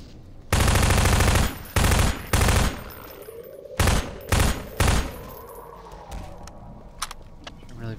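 Bursts of automatic gunfire from Half-Life 2, loud and close: one long volley, two shorter bursts, then three more quick bursts, with fainter game noise trailing after.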